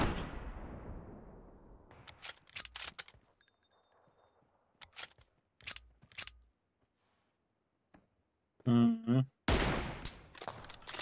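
Sniper rifle shots in PUBG Mobile ring out as several sharp, isolated cracks with echoing tails, separated by quiet gaps, with a loud blast near the end and brief game sounds in between.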